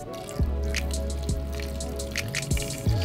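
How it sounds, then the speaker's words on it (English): Water poured into a ball python egg incubation bin, producing scattered drips and small splashes against the plastic over a low steady trickle, close up and quiet. "when I add the water, we start getting some water accumulating on the sides here"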